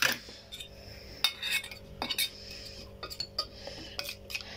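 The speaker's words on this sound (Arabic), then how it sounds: "وطبعا معانا هنا المعلقه الجميله بتاعتنا، وهنقلب كل ده في بعضه" A metal spoon clinks and scrapes against a pan while stirring an Alexandrian-style liver and kidney mixture, giving irregular close clatters and taps with short pauses between them.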